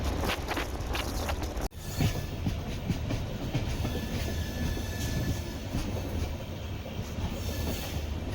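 The Ernakulam to Velankanni Tea Garden Express, train number 16361, rumbles along the rails at Ayangudi station with a continuous loud roar and rhythmic wheel clatter, broken by one sharp jolt early on, with no voices.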